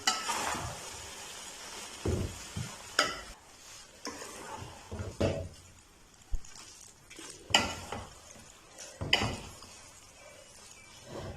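Chicken chow mein noodles are stirred in a hot pan, with irregular scraping and clanking of the utensil against the metal over a soft background sizzle, close and without talk.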